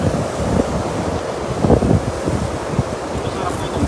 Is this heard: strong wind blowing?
yes